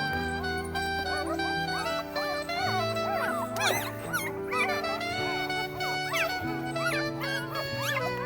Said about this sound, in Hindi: ये उसी फीमेल डॉगी के बच्चे हैं